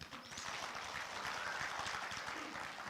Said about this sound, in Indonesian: Mari kita tepuk tangan untuk Tuhan